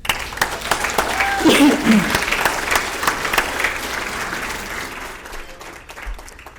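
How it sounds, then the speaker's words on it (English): Audience applause honoring the late Arch Deal at a reunion of Big 13/WTVT station employees, a sustained round of many hands clapping that fills the room and slowly tapers off, with scattered voices mixed in. "Please join me in saluting Arch Deal with your applause."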